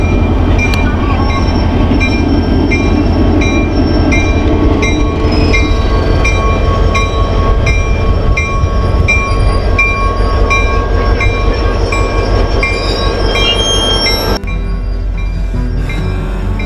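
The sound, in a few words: train ride on rails in Las Vegas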